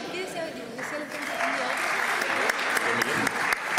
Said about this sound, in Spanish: Yo entiendo que el nombre del liceo convoca un aplauso más generalizado.